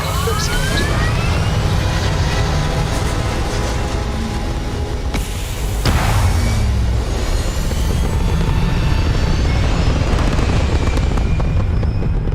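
A spaceship lifts off in the video game Starfield with a loud, continuous roaring rumble that holds steady for about twelve seconds, with a brief surge near the middle.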